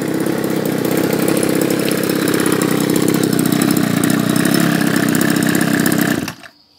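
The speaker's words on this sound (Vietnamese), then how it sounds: "cái video mình giới thiệu cây máy Kawasaki TJ27" A Kawasaki TJ27 27cc grass trimmer engine, a Japanese-made unit with a 34 mm bore, runs steadily at high revs with a loud, continuous buzzing drone, then abruptly cuts off near the end, leaving silence.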